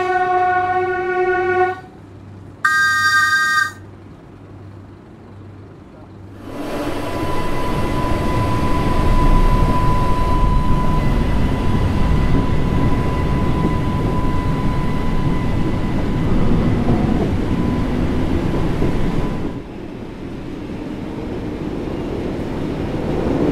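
A Class 484 electric train in Train Sim World 4 on the Island Line: a few chimes and a beep, then a steady loud traction whine and rumble as the unit accelerates, easing off toward the end.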